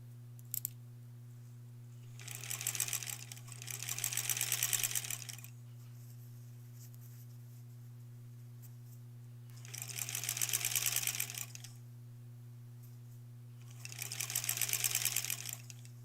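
Sewing machine stitching border pieces for a granny squares quilt, four separate runs of fast rhythmic whirring with quiet gaps between, moderately close over a constant low electrical hum, no talking.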